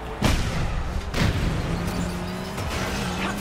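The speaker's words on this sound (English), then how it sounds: "Live bombs on the track." Bombs go off on the track during a Cars 3 Driven to Win race: several sharp booms sound in quick succession over a constant engine roar, and a game commentator's voice is not heard.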